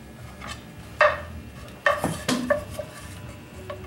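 A utensil scraping and clanking against a pan while breaking up sausage, a few sharp metallic knocks and rubbing scrapes at an irregular pace, close up.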